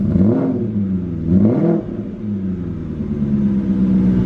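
A BMW E34 540i with its M60B40 V8 idles loud and close, with a deep steady rumble and two brief blips of the throttle rising and falling near the start.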